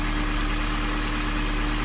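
A 1999 Honda S2000 AP1 with a naturally aspirated 2-liter engine idling, a steady, even hum heard close up and alone, with no voices.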